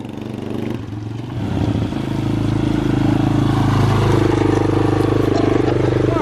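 A 125cc project motorcycle clatters as it is push-started, then catches and settles into a loud, steady running engine note with some revving, close by.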